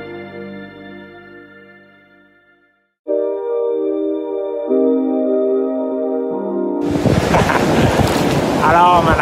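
Seashore waves at Taimali beach in Taitung, a deserted stretch of coast, break in as a loud, broad rushing wash during the final seconds, following a long, steady tonal hum, with some wind buffeting the microphone.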